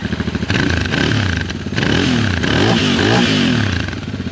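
A Royal Enfield Interceptor 650 twin motorcycle engine runs close up, a loud, steady throbbing rumble with gentle rises and falls in revs and no talking.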